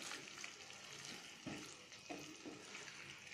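Egg masala sizzling and sautéing in a pan over a medium flame, a soft continuous fry with a couple of faint scrapes of stirring, no talk.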